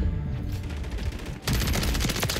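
Video-game HRM9 submachine gun rips off a rapid, continuous burst in a first-person shooter match, loud and close, preceded by quieter background game noise before the sustained automatic fire kicks in.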